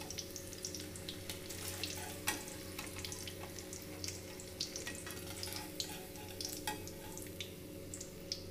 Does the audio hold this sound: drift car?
no